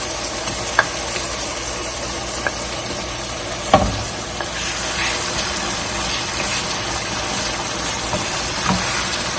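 Shrimp, 600 grams, frying in hot oil with softened tomatoes and onions for a spicy Karachi-style curry, giving a steady broadband sizzling hiss with a few faint knocks of utensils. No one speaks.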